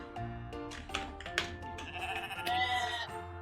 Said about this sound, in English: But the sheep are thriving. We have grey sheep here.